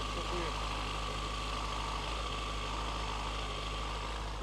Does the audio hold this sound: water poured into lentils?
no